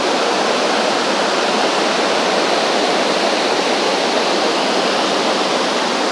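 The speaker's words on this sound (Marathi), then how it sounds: "इथून खाली पाणी पडता" The Amboli waterfall pours down over rocks in the monsoon, a loud, steady, unbroken roar of rushing water close by with no voices.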